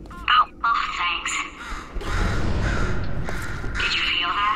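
A bird caws in the video game Portal 2, a few sharp harsh calls up front, then a game voice talks over steady background hum and occasional further caws.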